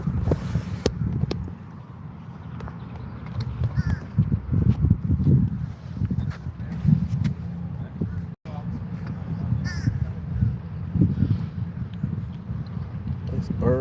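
Crows caw outdoors beside tennis courts on a 100-degree day, a few scattered harsh calls rising over steady broadband outdoor noise, with voices nearby.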